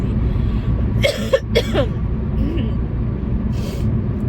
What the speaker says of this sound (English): I am still coughing from my flu diagnosis